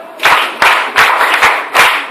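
Students at an international school clap for a classmate in five quick, loud bursts of applause spaced roughly every third of a second apart, with no talking.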